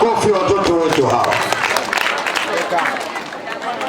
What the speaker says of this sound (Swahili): Wapigieni tena makofi watoto wetu hawa.